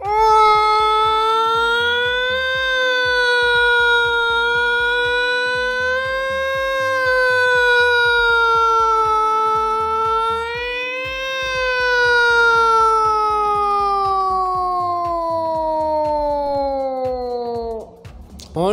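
A voice imitates a wailing ambulance siren, a long continuous tone slowly rising and falling for many seconds before breaking off.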